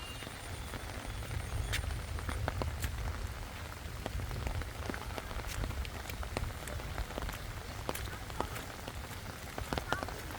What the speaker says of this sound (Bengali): বৃষ্টির দিনে গ্রামের দৃশ্য